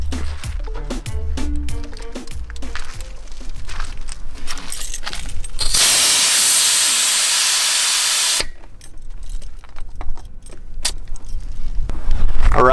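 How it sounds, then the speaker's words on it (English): Air hisses steadily out of an off-road vehicle tire being deflated for driving in deep sand, a loud close rush lasting several seconds between metallic clicks and rattles of the valve tool. "We're gonna go ahead and air down"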